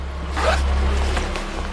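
A zipper on a side pocket of a vest is pulled in a single quick run, a close, dry rasp over a steady low background hum.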